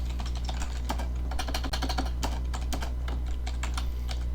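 Steady typing on a computer keyboard while code is written during a lecture, with rapid irregular key clicks close up throughout and a constant low hum underneath.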